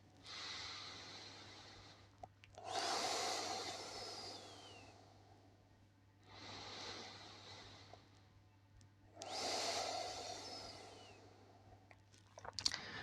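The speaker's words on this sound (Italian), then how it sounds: "respiriamo cercando di non muovere il petto, quindi respirare solo dalla pancia" Slow diaphragmatic belly breathing, done as a relaxation exercise: three long, close breaths, each a drawn-out airy inhale and exhale swelling and fading, separated by quiet pauses, with a steady low hum underneath.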